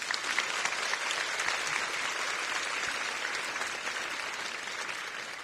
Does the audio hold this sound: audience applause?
yes